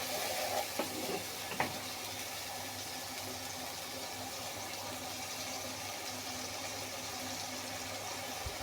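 A paste of turmeric and chili powder with salt sautéing in oil, a faint steady sizzle with a couple of brief clinks and scrapes near the start.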